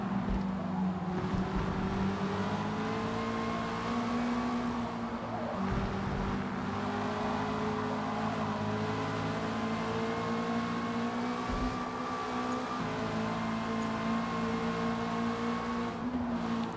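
Ginetta race car engine in a racing video game, a steady droning hum with slight pitch shifts, continuous and moderately loud, heard alone without speech.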